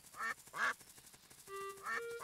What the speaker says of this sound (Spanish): ¡Patos! ¿Qué estáis haciendo aquí? ¿También tenéis hambre?